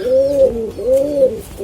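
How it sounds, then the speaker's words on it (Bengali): Chinese teddy pigeons, just let out of their cage, give two rounds of deep, rolling coos close by with soft rustling between them. "আমি কবুতরগুলো ছেড়ে দেখাই"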